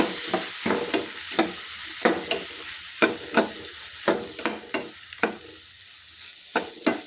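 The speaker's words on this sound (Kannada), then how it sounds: "ಇದನ್ನು ಎಲ್ಲ ಒಟ್ಟಿಗೆ ಹಾಕಿ ಚೆಂದ ಫ್ರೈ ಮಾಡ್ಕೊತೀನಿ" Soaked green gram with turmeric frying in hot oil, a sizzling bed broken by sharp, rhythmic stirring scrapes of a spoon against the pan, close and alone.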